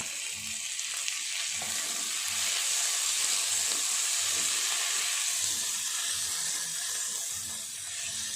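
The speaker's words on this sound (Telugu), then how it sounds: "ఆనియన్స్ కొంచెం ఫ్రై అయ్యాక కట్ చేసుకున్న టమాటా ముక్కలను కూడా వేసేసుకోవాలి" Onions and chopped tomato pieces fry in a pan for capsicum paneer masala, giving a steady, close sizzle with a broad hiss and soft stirring scrapes throughout, with no voices.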